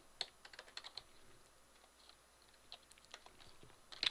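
Quiet, irregular keystrokes on a computer keyboard, a few scattered bursts of typing with short pauses between them, heard close and alone.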